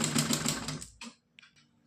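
A sewing machine stitching cloth for a small dress runs in a quick, even burst of mechanical ticking for under a second, then stops, leaving only a few faint clicks.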